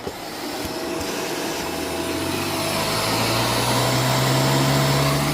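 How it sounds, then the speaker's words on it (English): A vacuum cleaner working over an area rug, its steady motor roar building slightly while a droning hum persists underneath throughout, close and loud with no talking. "Let's vacuum."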